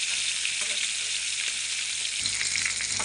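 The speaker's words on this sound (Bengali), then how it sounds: "এবার ওই পাশটা ভাজা হবে।" Pieces of rohu fish fry in hot oil after being turned to cook the other side, giving a steady, close sizzle and crackle that runs unbroken with no talking.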